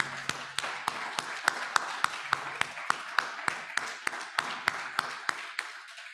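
A round of applause for a musician: a small group claps in a steady, evenly spaced rhythm of sharp, separate claps, fairly close, lasting about six seconds with no talk.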